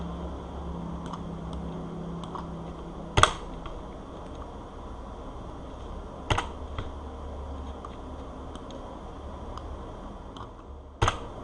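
Computer keyboard keys pressed while deleting comment lines in Java code: a few sharp, isolated clacks spaced seconds apart with faint lighter ticks between, over a steady low room hum.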